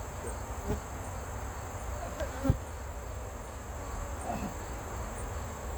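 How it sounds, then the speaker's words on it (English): A crowd of honey bees hums steadily around the back of a hive during honey pulling, a constant close buzz with a few small knocks. "All right, so I got a bunch of bees on the back of this hive."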